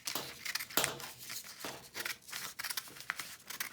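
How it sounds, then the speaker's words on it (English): Scissors snip through a folded paper strip in several quick, close cuts, with crisp crinkling and rustling of paper between the snips and no talking. "use scissors to cut off this extra strip"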